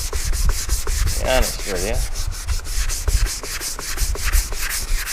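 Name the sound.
sanding car quarter panel with 500 grit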